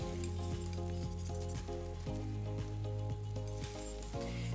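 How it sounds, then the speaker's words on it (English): Savory blinis sizzling steadily in a hot pan as they are flipped, a continuous fry hiss with faint clinks, close and alone with no talking. "We're gonna go ahead and flip our blinis over."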